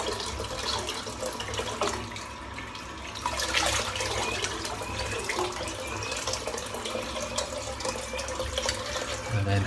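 Warm tap water runs steadily while a freshly shaved head is rinsed after a wet shave, a close, continuous splashing wash with a brief louder surge near the middle.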